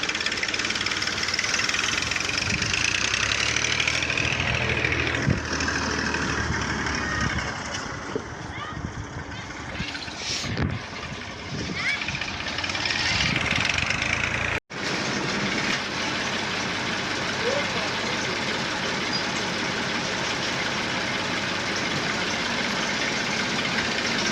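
A tractor engine runs at a steady idle with a low rumbling knock throughout, loud and close, briefly cut by a short dropout midway, while people talk over it.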